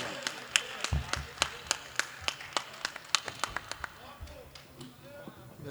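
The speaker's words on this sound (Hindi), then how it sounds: "आप तालियों से इस्तकबाल करें" A burst of irregular hand claps from a mushaira poetry audience in Asansol, sharp and scattered, gradually thinning out with voices murmuring underneath.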